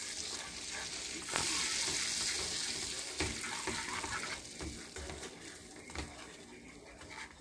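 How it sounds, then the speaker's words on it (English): Butter and brown sugar being stirred together in a pan, with a sizzling, crackling frying texture and scattered scraping stir strokes, steady and close throughout. "I'm going to mix this in my butter"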